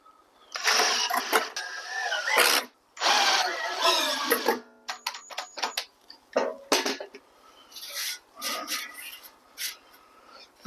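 A power drill drives long 4-inch screws into timber, whirring in loud bursts that rise and stop, followed by shorter revving pulses and clattering handling sounds.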